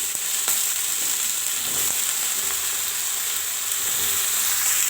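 Sliced onions fry in a hot pan for an Assamese eggplant and hilsa fish curry, giving a steady, close, even sizzle with a few faint stirring scrapes and no talk.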